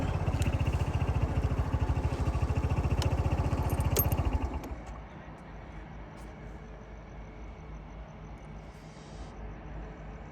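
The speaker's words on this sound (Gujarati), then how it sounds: "આમ જો અત્યારે અમે એક્ટિવા લઈને નીકળી ગયા છીએ।" An Activa scooter engine putters steadily up close, then eases off into a quieter, low hum for the rest of the ride.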